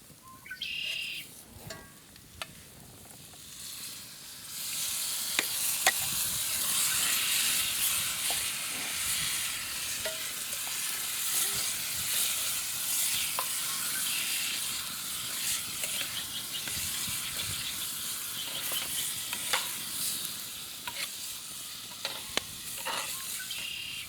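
Trout coubion frying and sizzling in a pan, stirred now and then, a steady bright crackle running close and fairly loud throughout, with faint bird chirps in the background.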